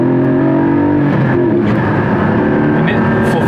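A Porsche 718 Cayman GT4 on Michelin Sport Cup 2 tires drives close by. Its engine drones loudly and steadily with a tonal, rising pitch, and a voice may be faintly present underneath.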